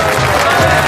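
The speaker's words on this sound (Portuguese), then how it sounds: "Palmas, por favor" Brief audience applause with crowd noise, a thick continuous wash of clapping lasting about a second, loud and close.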